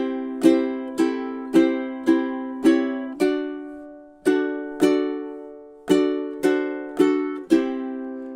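Ukulele strums measures 14 and 15 of a song, about a dozen bright strokes in a steady, lilting rhythm with one short pause, close and fairly soft, with no voices.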